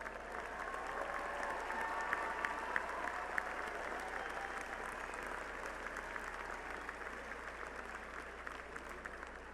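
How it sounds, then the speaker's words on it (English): Sustained audience applause fills a university commencement ceremony hall, a dense steady wash of many hands clapping at moderate distance for several seconds without pause. "please stand and receive our applause"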